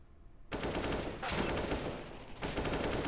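Rapid AK rifle fire in a Counter-Strike match crackles in dense, loud bursts: a long stretch of continuous shooting, a brief dip, then another sustained volley.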